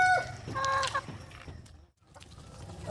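Chickens fed whole corn on a small farm, clucking in short bursts close by, with a few brief calls over a low murmur before a quiet pause.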